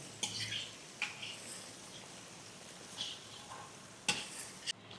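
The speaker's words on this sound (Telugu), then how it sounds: "ఆయిల్లో కాస్త మగ్గనివ్వాలి." Ginger garlic paste cooking in oil in a pan for a fish pickle gives a faint, steady sizzle, with a few sharp clinks and scrapes of stirring scattered throughout and a louder clatter near the end.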